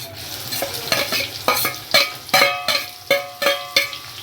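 Chopped onion fries in hot oil with whole spices as a spoon stirs in a regular rhythm, about two strokes a second, each scrape rising over a soft, close sizzle.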